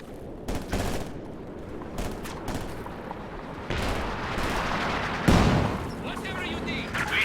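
An ISG infantry gun firing in a World War II strategy video game, heavy booming shots amid ongoing battle gunfire and artillery, with one loud blast standing out near the end.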